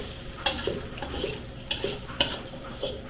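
Grated coconut is stirred in a frying pan for Portuguese laksa, giving a soft, steady dry sizzle with a few scraping strokes of the utensil against the pan, close and fairly quiet.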